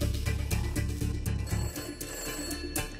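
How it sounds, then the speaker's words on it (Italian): An old telephone rings as a sound effect in an Italian audiobook: a rapid, mechanical bell in repeated bursts that stays fairly loud and close and plays with no speech. "una telefonata avverte Rachele che Mussolini ha lasciato Palazzo Venezia"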